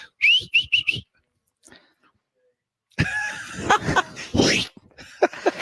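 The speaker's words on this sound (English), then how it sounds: "I can't whistle like that." A quick run of short, high whistled chirps up close at the start, followed by silence and then people talking and coughing.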